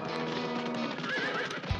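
A horse on a ranch neighs in a shrill, wavering whinny heard close and clear, with a low thump near the end and no talking.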